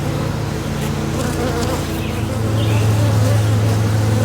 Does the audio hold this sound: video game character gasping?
no